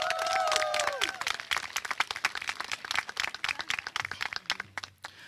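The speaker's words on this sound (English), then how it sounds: "Please give them a round of applause." Applause from a high school graduation audience for graduating seniors, moderately distant clapping that starts full and thins out into scattered claps by the end, with a brief tone at the start.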